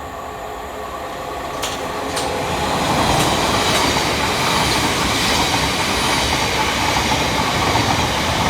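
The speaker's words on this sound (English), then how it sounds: "Next to pass through the station for Thameslink is 700 138" A Thameslink Class 700 electric train runs through New Cross Gate station, its rumble swelling from a quieter start into a loud steady roar of wheels on rail with brief high squeals, heard from the platform with nobody talking.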